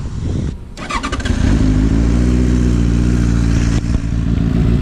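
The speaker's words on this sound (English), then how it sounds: "So this is the stock sound of the bike, so if you can hear it. So this is the idling sound." A Benelli 600i motorcycle with its stock exhaust starts and settles into a steady idle, a loud, close, low rumbling with even pulses after a brief cranking clatter.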